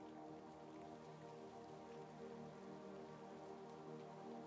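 Steady rain falling under heavy clouds, a dense even patter of drops on surfaces, moderately near and unbroken with no voices.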